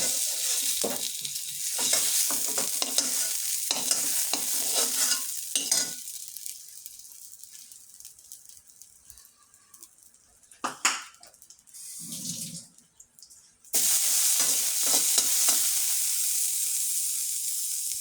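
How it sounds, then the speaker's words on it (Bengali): Taro frying in a pan while being stirred, a steady sizzle with scraping stirs, loud at first, dropping quieter through the middle with a brief clatter, then a strong continuous sizzle returning near the end. "এই তো আমার কচুটা ভাজা হয়ে গেছে"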